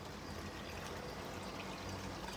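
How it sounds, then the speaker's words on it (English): Water gurgling and draining out of a filled aquaponics grow bed on a balcony setup, a close, steady rushing trickle that runs continuously without pause. "the bed is filled and it is gurgling out."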